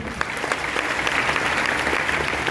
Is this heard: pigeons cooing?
no